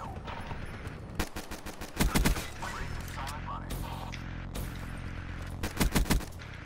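Rapid 1911 pistol shots in a video game, bursts of sharp cracks in quick succession with a couple of heavier volleys, loud and close amid other game noise.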